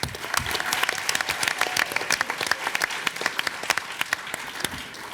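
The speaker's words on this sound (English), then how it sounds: "please give a round of applause for Alada's Deli" Audience applause at a Rotary Club city council candidate forum, a loud burst of clapping from a room of people that carries on steadily, then thins into scattered individual claps near the end.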